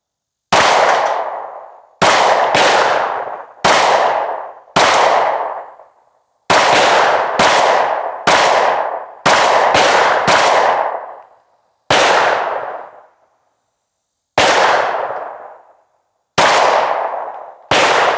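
An IWI Masada pistol firing Hornady 135 grain +P FlexLock rounds: ten loud, close, sharp shots at irregular intervals, each ringing briefly, with silence between them.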